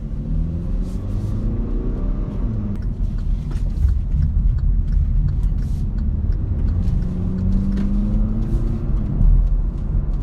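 From inside, a 2018 Hyundai Elantra Sport with sport-tuned suspension and 18-inch wheels drives through corners on a road. A low, steady engine rumble and road noise rise and fall gently with mild acceleration.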